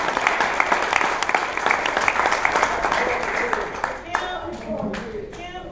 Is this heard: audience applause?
yes